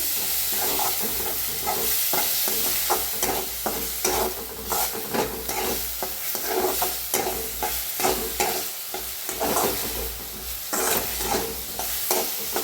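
Matki dal being dry-roasted in a pan for a minute, giving a steady close scraping and stirring rasp with faint crackle and hiss, rhythmic and continuous with no talk.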